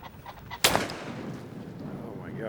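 A single loud 20 gauge shotgun blast fired at a rooster pheasant in open country, a sharp crack rising out of wind noise and fading quickly, with light rustling afterward.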